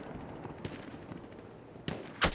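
Gunfire in a Battlefield 1 operations match: scattered distant shots crack over a steady battlefield din, with a couple of louder close reports near the end.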